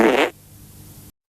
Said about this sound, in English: Hairy truck driver farting.